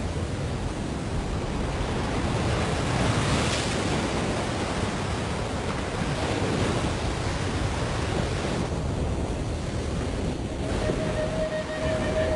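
Ocean waves wash onto a deserted shore in a steady, broad roar of surf mixed with wind, continuous and fairly distant, with no voices.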